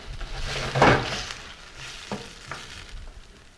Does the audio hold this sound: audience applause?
no